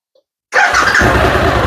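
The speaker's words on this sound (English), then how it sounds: "Taking the engine a little while to come up to a nice idle speed, but there he goes." A motorcycle engine cranks and fires up right after a battery replacement, the sudden start breaking the silence, then running loud and steady as it settles toward idle.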